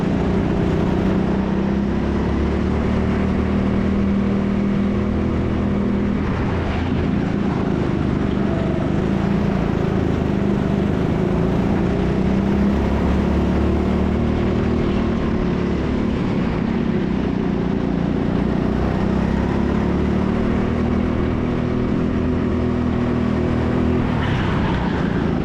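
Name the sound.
go-kart racing on final lap at TeamSport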